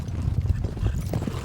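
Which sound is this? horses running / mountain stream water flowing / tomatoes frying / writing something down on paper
horses running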